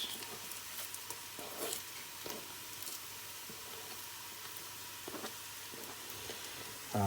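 Curry leaves dropped into hot oil with mustard seeds for pepper water, giving a steady, soft frying hiss with light crackles and occasional stirring scrapes throughout, with no talk.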